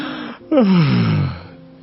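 A voice imitates a yawn: a brief breath in, then a long drawn-out falling moan that trails off, close and clear.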